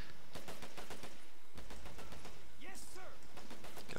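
PPSh submachine gun fire in the Men of War strategy game, rapid crackling bursts of rounds that break off midway and resume more sparsely, mixed with battle noise and a voice.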